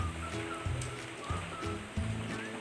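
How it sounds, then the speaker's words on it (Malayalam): Water is poured into a simmering egg curry gravy, a faint, continuous rushing splash with soft background tones throughout. "നമുക്കിനി ഇതിലേക്ക് കുറച്ച് വെള്ളം ഒഴിച്ചു കൊടുക്കാം"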